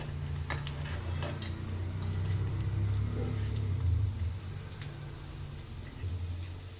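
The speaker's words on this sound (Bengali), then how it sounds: "খুব কম তেলে এটা" Bitter gourd fritters frying in very little oil, with a low, continuous sizzle, a few sharp crackles and pops, and soft turning sounds.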